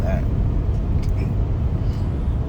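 Inside a moving car, a steady low road rumble and cabin drone fill the space, loud and continuous with no break.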